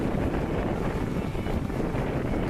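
Wind of around 13 knots buffets the microphone aboard a sailboat making about 5.5 knots, a dense steady rush and rumble with no pauses.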